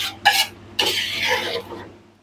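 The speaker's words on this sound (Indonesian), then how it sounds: "ini ayamnya udah mendidih ya kita aduk-aduk" Stirring boiling chicken in a cooking pot, with two bursts of scraping and clattering, a short one then a longer stretch, close up and fairly loud.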